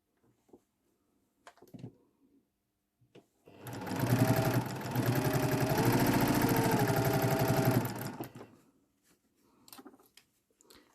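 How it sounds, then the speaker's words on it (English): A sewing machine runs steadily for about four seconds with a fast mechanical whir, preceded and followed by faint clicks and handling noises. "I'm going to put those under the sewing machine."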